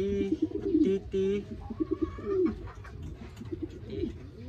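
A racing pigeon coos softly and repeatedly at its loft after returning from a 98 km race at Unisan, Quezon, with low throaty warbles close by, while a person speaks quietly in the background.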